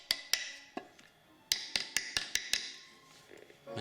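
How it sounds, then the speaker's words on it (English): Rounded hammer tapping a protruding part of a timber beehive honey frame flush, a series of about ten crisp, close wooden taps, irregular then quickening into a steady run before fading. "I take the rounded hammer"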